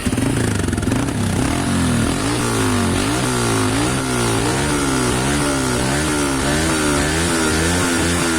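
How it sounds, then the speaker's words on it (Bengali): Honda CB Hornet 160R motorcycle with loud, close exhaust revving in repeated rising and falling throttle blips over a steady idle, continuous throughout with no talk. "আপনাদেরকে আমি একটু বাইকের এক্সজস্ট নোটের একটু সাউন্ডটা শোনাই।"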